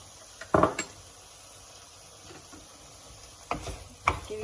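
Tomato curry of aubergine, potatoes and peas being stirred in a pan with blended tomatoes, giving a few soft scraping clinks of a spoon against the pan, with brief quiet gaps between strokes.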